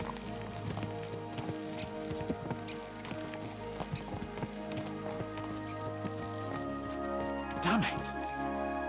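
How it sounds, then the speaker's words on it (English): Horses gallop with steady, overlapping hoofbeats in Kingdom Come: Deliverance II, a continuous clip-clop under game music, with a louder swell of movement near the end. "Let's really spur these horses on, eh?"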